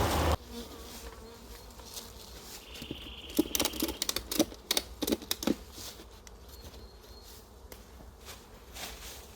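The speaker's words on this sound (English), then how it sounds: "we don't mess around with the bees at this time of year" A honeybee colony hums steadily at its hive during a winter inspection and fondant top-up, with scattered tapping and patter sounds through the middle and no voices.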